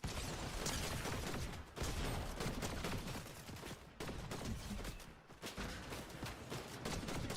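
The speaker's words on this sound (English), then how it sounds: "That team on the house shooting at me is real." Enemy gunfire in a video game, with sustained automatic shooting in dense, continuous bursts over several seconds and brief gaps between volleys, loud and close, with no one talking.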